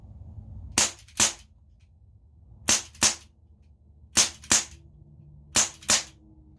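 Eight sharp CO2 pellet shots from a Winchester 4.5 Special 8-shot revolver fired double action in rapid pairs, four close doublets of loud cracks with quiet gaps between.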